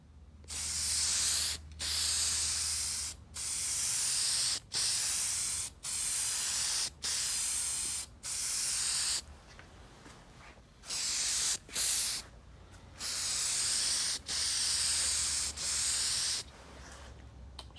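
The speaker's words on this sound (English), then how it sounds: "now I'm going to give it a coat of primer so that the wood grain doesn't show" Aerosol can spraying primer onto a wooden model railroad diner base, a series of loud, steady hissing bursts of one to two seconds each separated by short pauses, close and alone.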